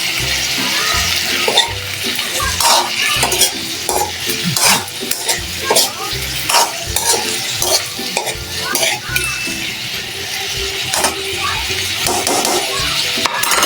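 Large shrimp with vegetables sautéing in a pan are stirred repeatedly, giving loud, close scraping and wet sloshing strokes in a steady rhythm over a continuous sizzle.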